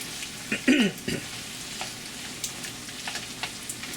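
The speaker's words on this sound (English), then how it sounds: "use the chopstick to keep stirring everything up. Stir and mix everything." Chopsticks stir pork belly fried rice with egg in a hot pan, giving a brief cluster of scraping clatter and sizzle near the start, then a quiet low sizzle with a few faint ticks.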